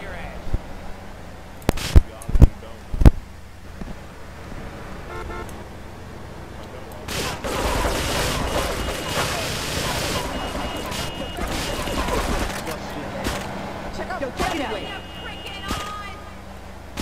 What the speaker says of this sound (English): these explosions